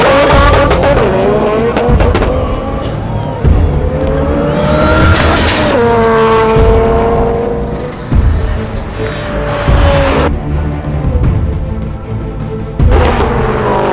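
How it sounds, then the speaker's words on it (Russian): All-wheel-drive race cars launch in a quarter-mile drag race, their engines screaming loudly as they rise through the gears with repeated upshifts, roaring close by throughout. "И с безумным ускорением Гетлан Геннадий первый пересек финишную черту"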